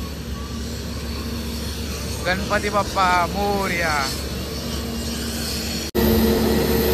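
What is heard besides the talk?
airplane at Sindhudurg airport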